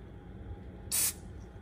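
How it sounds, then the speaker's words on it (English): One light burst of cooking spray hisses onto a roasting pan that is not non-stick. The spray is short and close, and the room is otherwise quiet. "We're gonna grease the pan, because you know, it's not a non-stick pan."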